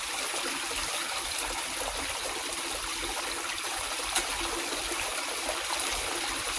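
Water rushes steadily through a gold prospecting sluice box fitted with Hungarian riffles at a stream, a continuous close splashing flow with no speech.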